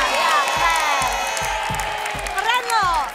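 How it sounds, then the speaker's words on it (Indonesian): Children and an audience at a family home show clap and cheer together, a busy wash of applause with excited shouts and whoops rising over it throughout. "tepuk tangan. Bareng-bareng semua."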